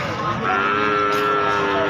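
A cow lets out a long, low moo, close by, over a busy background hum at the Pon cattle market in Jaken, Pati, Indonesia.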